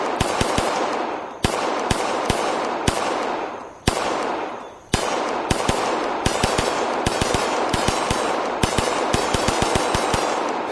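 A custom 2011-build pistol fires in the VR shooter game AceVR. The shots come loud and sharp in rapid strings of sharp cracks, with a few short gaps between bursts and no talk.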